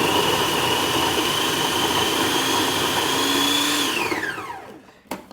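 A food processor blends soaked dates into paste, running as a loud, steady motor whir with a whining tone. It then spins down, the pitch falling, and ends with a brief clunk.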